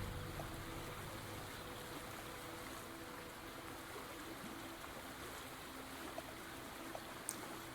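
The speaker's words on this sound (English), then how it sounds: "Acid water washes around the rocks." Acid water washing and trickling around rocks in a video game, a steady low, quiet liquid wash with faint drips throughout.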